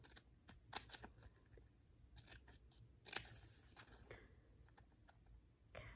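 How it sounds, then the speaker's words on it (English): Quiet, close scissor snips cut through paper in a few short, irregular bursts against a near-silent background. "now all I have to do is cut this little door out"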